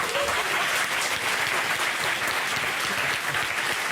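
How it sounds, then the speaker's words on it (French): A studio audience on a French TV talk show applauds in a steady, dense wash of clapping that holds at an even level throughout. "Applaudissements pour lui."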